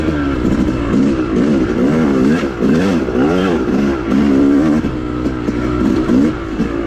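A Yamaha YZ250 dirt bike engine on a woods trail, loud and close, revving up and down in repeated surges with a throaty two-stroke drone.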